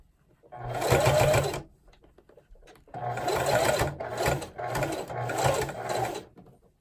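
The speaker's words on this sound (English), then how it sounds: "We're just sewing through all thickness." A sewing machine stitches through all the fabric layers of a homemade face mask in three close bursts of rapid mechanical whirring, separated by short pauses and quiet handling noise.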